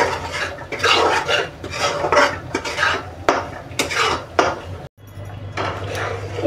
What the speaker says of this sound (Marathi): आता आपण हा मस्त खरपूस असा भाजून घेऊया रवा. मीडियम असा फ्लेमवरती भाजून घेऊ.